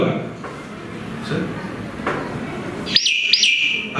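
Call of a tailorbird recorded in Belgaum: two sharp, high, repeated chirps near the end, clear and fairly close, following a few seconds of soft background noise with faint murmuring.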